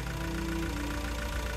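Steady low engine drone from an idling car with a fault, broken by a faint irregular gurgle, on an overlanding trip in Alaska. Close and continuous with no talking.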